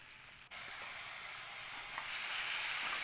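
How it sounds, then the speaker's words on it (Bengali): Fried ridge gourd pieces hit hot spice masala in a pan, setting off a sudden, loud, steady sizzle that holds strong to the end, with no talking. "এবার এই ঝিঙেগুলোকে দিয়ে আমি এই মশলার সঙ্গে কিন্তু খুব ভালো করে একটু দুই থেকে তিন মিনিট সময় নিয়ে খুব ভালো করে একটু কষিয়ে নেব"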